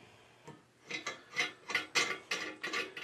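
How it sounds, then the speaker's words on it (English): A threaded fitting is hand-tightened onto the quartz tube of a UV sterilizer, giving a series of rhythmic scraping, ratcheting rubs that grow steadily louder and closer, with no talking. "you're just going to go in there and you're going to go ahead and hand tighten it"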